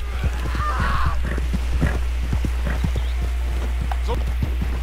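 Horse hooves clip-clop at a steady walking rhythm in Red Dead Redemption 2, moderately close, with game ambience and occasional voices over the steps.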